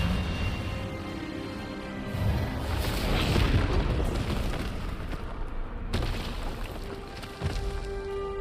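Expelliarmus spell blast in the video game Hogwarts Legacy, a loud rumbling magical burst building into a sustained boom with a sharp crack near the end, no speech.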